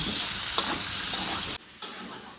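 Potatoes frying with spices and salt in a kadai, a dense continuous sizzle with stirring scrapes, then a sudden short drop before the frying noise resumes.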